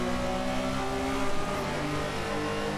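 Porsche race car engine driving on the 1967 Silverstone circuit in the racing game Assetto Corsa, a steady droning roar with shifting harmonic tones held at constant loudness throughout, with no talk.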